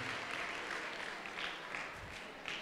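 Children clapping together at a school assembly at Acharyakulam, Patanjali Yogpeeth in Haridwar, a steady, dense patter of small hands that fills the room without a break.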